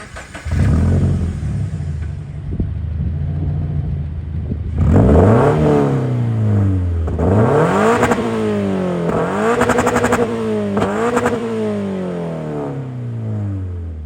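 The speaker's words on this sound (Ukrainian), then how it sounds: "звучить це все діло дуже класно, і я пропоную зараз, напевно, що це і послухати" A Subaru BRZ sports car imported from the USA, its engine somewhat worn, idles steadily and then revs repeatedly, the pitch climbing and falling in several loud, close sweeps with no talking.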